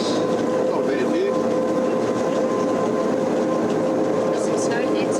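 Cog railway train on the climb up Mount Pilatus, a steady rumbling rail noise with faint clatter running throughout, with people talking over it.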